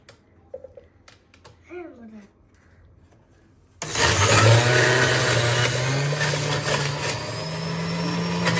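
A blender or juicer churning apple and orange kicks on after a few seconds of quiet shuffling and brief talk, then runs as a loud, steady motor whir with a gritty blending texture until the end.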